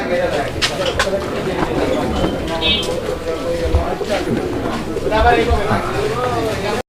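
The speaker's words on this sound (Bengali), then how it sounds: "এখানে একটা সিঙ্গেল কবুতর রয়েছে" A pigeon coos softly and repeatedly close by, its low calls mixed with a person talking throughout.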